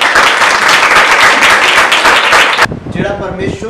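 A congregation at a church service bursts into loud, dense applause that fills the room, then cuts off abruptly near the end, leaving quieter room sound with faint voices.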